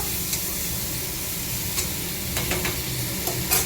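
Drumsticks (moringa pods) are stirred in a hot pan, giving a loud, steady frying sizzle with scraping stirs and a few sharper clicks near the end.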